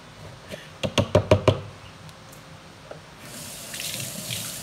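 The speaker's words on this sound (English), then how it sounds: "And I'm just rinsing it off." Juicer parts are handled and knocked at a kitchen sink: a quick run of five close, sharp clunks, a couple of lighter taps, then running tap water hissing faintly near the end as they are rinsed.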